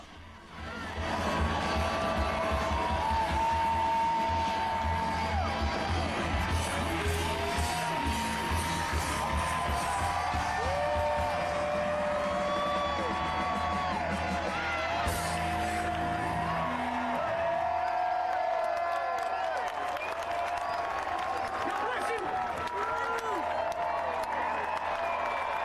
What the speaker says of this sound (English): Yeah, the crowd was loving it.